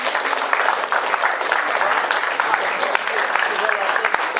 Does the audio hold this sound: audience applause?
yes